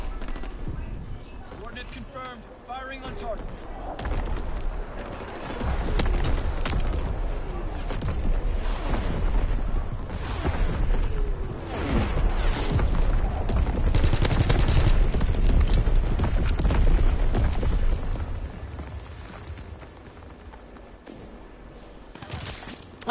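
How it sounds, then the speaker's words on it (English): Artillery strikes in a combat video game, rapid bursts of gunfire and explosive booms rolling on continuously at close range, with voices talking over the barrage. "I'm gonna drop artillery on him."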